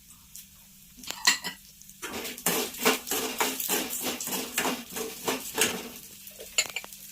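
Chana dal and urad dal hit hot oil in a pan for curry leaf spice powder, with a few sharp clinks, then a rapid run of rhythmic scraping stirs over a sizzle, up close.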